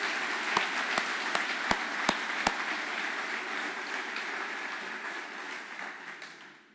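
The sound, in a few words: audience applause for public safety leaders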